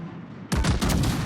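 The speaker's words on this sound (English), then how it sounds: "We actually got that salvo in with the improved dispersion there" A ship's gun salvo in a naval video game cracks out after a brief lull, a loud rolling burst of several overlapping blasts lasting under a second.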